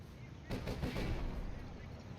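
Machine gun fire from an MG half-track in the World War II strategy game Company of Heroes, a rapid burst of shots that starts abruptly and carries on as a dense rattle under the game's battle noise.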